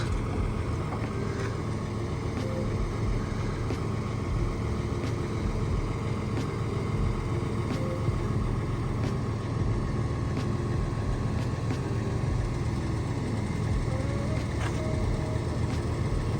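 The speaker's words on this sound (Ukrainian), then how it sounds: "складається, гідравліка працює" Hydraulics fold an Amazone sprayer hitched to a tractor on a turkey farm, a steady loud engine drone and hydraulic whine running unbroken, with no voices.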